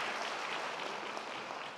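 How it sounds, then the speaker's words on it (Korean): Warm welcoming applause fills a church service for a returning graduate, a dense, even clapping from the congregation that holds steady throughout, with no talking over it. "우리 따뜻한 환영의 박수 한번 보낼까요?"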